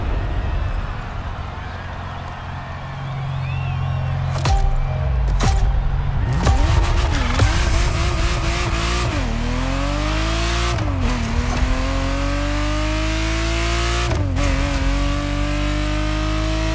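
A Ferrari Testarossa in The Crew Motorfest revs hard, its engine climbing through repeated upshifts, with sharp cuts between gears and rising pitch sweeps. The loud, close engine note dominates.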